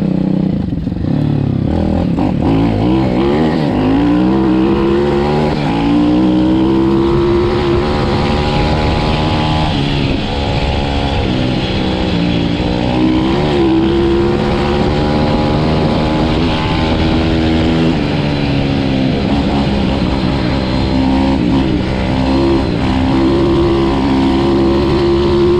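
A small MRF 170 RC model engine runs outdoors, a loud, close, buzzing drone that repeatedly revs up and settles, its pitch rising and falling throughout.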